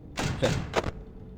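Door in the game Ultimate Custom Night closing with three quick, close, heavy thuds in a row, no talk over them.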